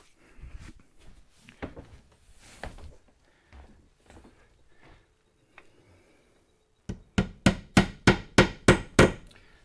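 A hammer drives a nail while LED light panels are installed, with scattered light taps and handling knocks at first, then a loud close run of eight evenly spaced strikes at the end.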